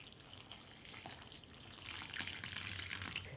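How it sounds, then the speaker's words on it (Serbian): Hot water pouring into a bowl of dry dough ingredients, a faint close trickle that swells into a louder splashing flow partway through. "Dodat ću 320 ml vruće vode"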